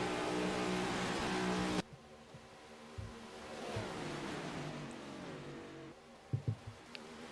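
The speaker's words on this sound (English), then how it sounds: "Look at these cars thunder on past." Race cars in a Carvana Cup Series all-star race at Michigan roar loudly and steadily, packed close together on the track, with the engine drone shifting as the pack passes and a few short thumps near the end.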